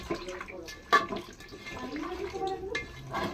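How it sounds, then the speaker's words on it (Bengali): Tengra fish being scrubbed by hand with salt and hot water, sloshing and splashing in a bowl with one sharper splash, close and moderately loud, with a voice talking over it. "মাছগুলোকে নুন আর গরম জল দিয়ে চটকে চটকে ধুয়ে নেব।"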